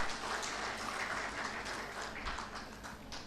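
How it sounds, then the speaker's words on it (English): An audience at an education awards ceremony breaks into steady, dense applause for Mr. Anand Kumar, a continuous wash of many hands clapping at moderate loudness throughout, with no voices standing out. "I shall request you as a guest to give big applause to Mr. Anand Kumar for his innovative work"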